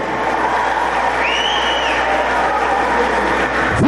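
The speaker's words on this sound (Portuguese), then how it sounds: "uma salva de palmas," Steady applause and crowd cheering fill a graduation ceremony for PROERD students with the military police, a broad, continuous wash of clapping and voices that holds loud throughout.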